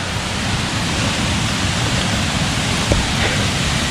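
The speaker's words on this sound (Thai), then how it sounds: "ด้านบนของน้ำตกยุงทอง" Rushing water at the top of Yung Thong waterfall in Na Yung–Nam Som National Park, Udon Thani, Thailand, a steady loud broadband roar filling the whole clip with no voices.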